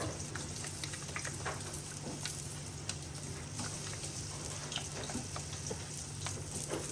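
Chicken fajita filling with chili sauce is stirred in a hot pan, giving a steady, close sizzle and crackle with scattered spatula clicks and scrapes throughout.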